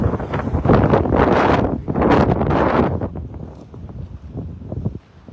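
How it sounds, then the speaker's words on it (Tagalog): Strong, cold wind blows on the Pacific coast at Maborikaigan in Yokosuka, Japan. Heavy gusts roar and buffet the microphone almost constantly, surging and easing, with no talking. "So cold, so big, so windy."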